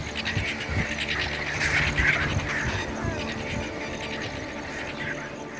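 Scavenging birds squabble noisily over a carcass, a dense, continuous mix of harsh calls, squawks and chatter that stays loud and close throughout.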